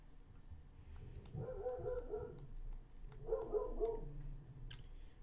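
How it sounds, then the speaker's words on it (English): A dog barks and whimpers in two short bursts, fairly close, with a low background hum. "I apologize if you could hear the dog."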